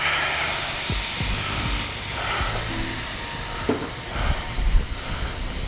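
Wine poured into a hot skillet on a smokehouse cooking set gives a steady, loud broadband sizzle and hiss that carries on evenly throughout, with a few soft knocks of the pan.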